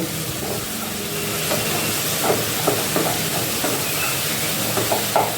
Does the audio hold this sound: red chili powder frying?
yes